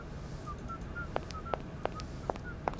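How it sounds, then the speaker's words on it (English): A character in the Syberia adventure game whistles a short, thin tune at a distance, soft bright notes drifting over a low ambient hum, with several sharp clicking taps scattered among them. "I can hear him whistling over there"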